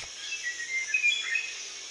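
A short bird call from an animal-learning game for preschoolers, a few thin high chirps over a steady hiss, fairly quiet and heard alone.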